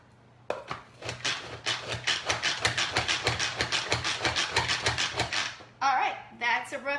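Rough chopping of onion with a knife on a board beside a cast iron pot: a fast, steady run of about thirty close, sharp knocks over roughly five seconds, followed by a voice speaking.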